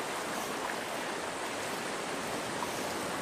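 Water streams steadily out of the pipe of a Cube Creek water extraction device, a constant close wash of flowing water with no pauses or voices.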